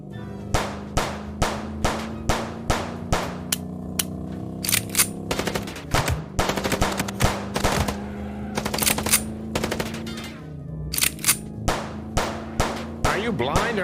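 Rapid bursts of machine-gun fire from a shootout in the video game Chicken Police ring out in repeated volleys over a steady engine-like drone and game music, with faint voices underneath.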